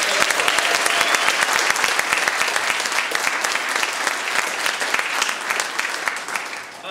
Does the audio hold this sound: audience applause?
yes